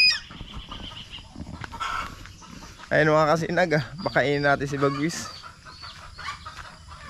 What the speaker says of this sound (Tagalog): Kagulo talaga mga manok.